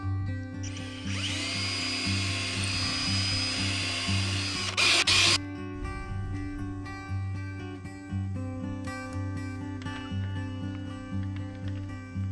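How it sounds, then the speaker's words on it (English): A power drill whines steadily at high speed drilling peg holes in a wooden workbench, then stops abruptly with a clatter, followed by quieter tapping and knocking sounds. "while I drill for the holes for the pegs"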